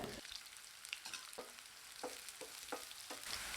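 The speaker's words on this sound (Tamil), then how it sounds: "சின்ன வெங்காயம் பொடியாக நறுக்கி வச்சதை சேர்த்து நல்லா வதக்கி விட்டுக்கலாங்க" Chopped shallots and curry leaves sizzle steadily in a hot pan, with a bright frying hiss throughout and several sharp scraping stirs of a spatula at a regular pace, close and alone without talk.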